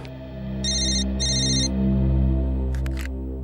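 An electronic telephone ring sounds in two short bursts with a brief gap, close and clear over a low steady hum, followed by a few quick clicks.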